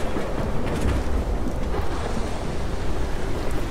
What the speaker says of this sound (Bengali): আবার অঝরে বৃষ্টিও শুরু হয়েছে